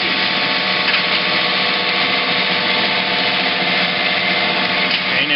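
A center drill bores a starter hole in a metal spacer, a steady, loud high-pitched whine of the turning machine with little change throughout.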